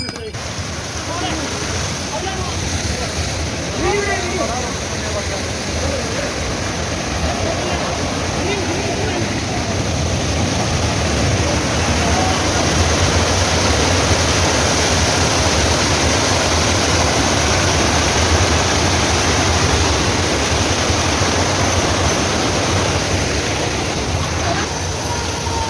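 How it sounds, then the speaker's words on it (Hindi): A large waterfall plunging from a great height on the mountain route to Kedarnath roars as a constant, dense rush of water, loud and unbroken throughout. "आप देख रहे हो कितना बड़ा झरना है और कितनी ऊंचाई से आ रहा है।"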